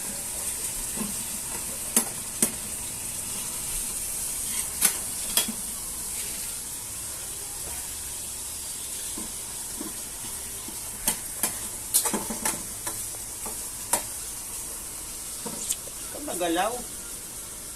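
Tomato and onion sizzling and softening in a hot pan as breakfast cooks, a steady frying hiss broken by sharp clinks and scrapes of a spatula stirring, with a person talking intermittently nearby.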